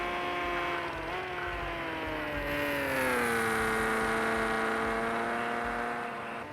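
A Porsche in a Project Cars 2 classic GT race on Xbox, its rear engine note rising and falling smoothly as the car drifts through turns, a steady loud tone that climbs and dips.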